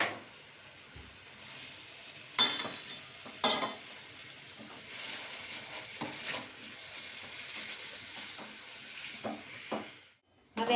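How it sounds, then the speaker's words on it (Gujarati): Potatoes frying with dabeli masala in a pan over a lowered gas flame, a steady soft sizzle with occasional scraping stirs and clinks of a spoon against the pan. "હવે આ બટેટા નાખ્યા હતા એ આપણે નાખીને એમાં ને એમાં આપણે ફ્રાય કરી લઈશું."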